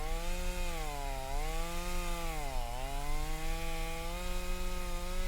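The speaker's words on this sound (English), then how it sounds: "the entity is just a guy with a chainsaw who chases you down" A chainsaw carried by a chasing entity in a horror video game whines with a loud, continuous tone, its pitch dipping and rising as the engine revs shift.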